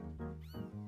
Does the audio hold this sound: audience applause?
no